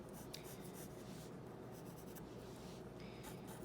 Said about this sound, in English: I'm just going to go in and lightly sketch